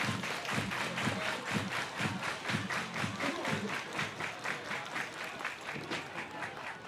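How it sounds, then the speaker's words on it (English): Crowd at a baseball game in an outdoor stadium claps together in a quick, regular rhythmic beat, a steady pulsing pattern heard from a distance and held for several seconds. "Everybody clap your hands"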